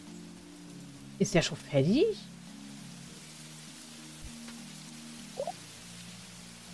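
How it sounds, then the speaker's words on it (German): Steady soft rain falls in the farming video game Monster Harvest, a faint continuous hiss running through the whole stretch beneath a brief spoken question and a few game sound effects. "Ja, es regnet."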